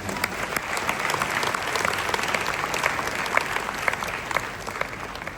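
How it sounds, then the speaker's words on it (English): An audience at a Ghanaian public address claps steadily, a dense, even patter of many hands with sharper individual claps throughout. "Let's clap for Ghanaian women."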